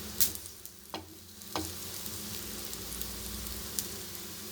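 Palak spinach vadas sizzle steadily in hot oil as they are flipped, with a few sharp clinks and scrapes of the spoon standing out near the start over a constant crackling bed.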